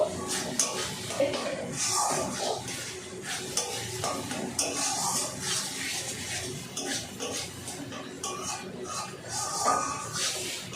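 Spiced masala being stir-fried in a pan over a medium gas flame for a fish curry, a steady close scraping sizzle with faint clatter and a little background voice.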